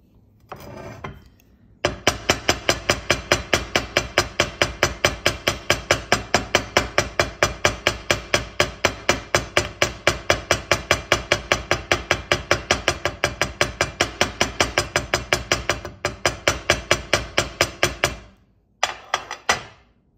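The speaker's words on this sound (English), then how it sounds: "You can lock your shape by hammering." Hammer strikes on metal wire, shaping a tree of life pendant for jewelry making: a long, steady run of rapid, evenly paced sharp taps, loud and close, with a couple of brief pauses near the end and no talking.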